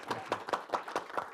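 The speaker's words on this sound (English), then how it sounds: "give a warm round of applause to our panelists" Sparse, rhythmic hand claps from a small audience thanking the panelists at a policy event, each clap distinct and fairly faint, about five or six in a steady pulse.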